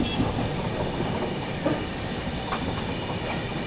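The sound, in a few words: Dibrugarh Rajdhani Express train running on a curve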